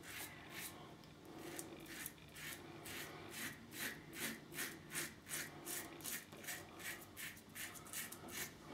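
A single edge razor cutting through facial stubble during a wet shave, giving a rhythmic, close scratchy rasp of repeated short strokes with no talk.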